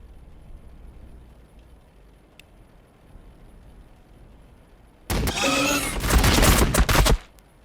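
Heavy fire-support gunfire in the Warhammer 40K Battlesector game, a sudden dense roar of rapid shots and explosions lasting about two seconds after a quiet stretch, loud and close.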